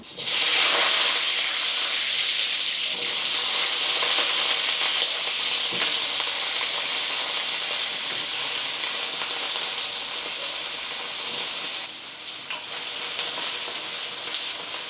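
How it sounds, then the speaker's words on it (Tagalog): Carrots and potatoes fry in hot oil in a wok with a loud, continuous sizzle and crackle, occasional stirring scrapes breaking through the steady hiss. "Tapos prito lang natin yung carrots at patatas."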